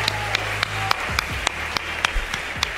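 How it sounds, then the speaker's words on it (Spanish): A crowd at a live streamer face-off event applauds in a steady wash, with sharp claps standing out at a fairly regular beat. "Antes de nada voy a pedirle también un aplauso"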